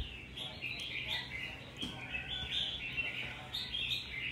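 Red-whiskered bulbul giving a run of quick chirping calls and whistled notes, fairly close and continuous over a low background hum.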